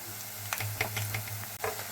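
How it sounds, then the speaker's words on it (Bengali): Ridge gourd fritters fry in oil in a kadai, making a soft continuous sizzle with a few light crackles and pops, quiet and close, with no talking. "কত সুন্দর স্মুথলি বড়াগুলো ভাজা হচ্ছে"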